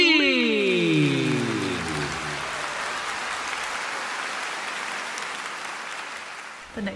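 Applause for a senior women's track and field athlete, a sustained wash of clapping hands that starts with a descending musical flourish and then holds steady for several seconds.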